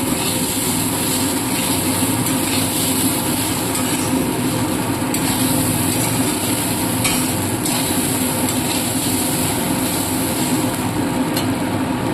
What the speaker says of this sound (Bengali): চালটা আমি এখানে যতটা ভালো করে ভাজবো আমার পোলাওটা ততটাই ঝরঝরে হবে।